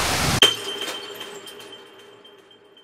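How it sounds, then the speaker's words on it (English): A glass bottle is brought down and shatters on a stone at a riverbank. A single sharp crash is followed by ringing, tinkling shards that fade away over a couple of seconds. "And with that final deafening shatter, the noise stops."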